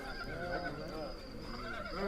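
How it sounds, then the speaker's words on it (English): A horse ridden back across a meadow, neighing and whinnying in short bursts over a steady background, with a faint hint of hoof clip-clop and a voice speaking over it. "the men could hear the sound of what must have been Arnett coming back across the meadow on horseback"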